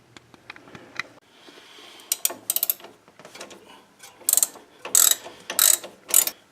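A ratchet wrench works a sway bar end link bolt on a Nissan 370Z, giving quick bursts of sharp metallic clicking that start light and grow louder and more rapid toward the end, with no talking.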